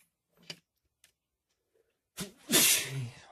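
A sudden, loud sneeze bursts out near the end after a few quiet ticks and faint clicks in a mostly silent room.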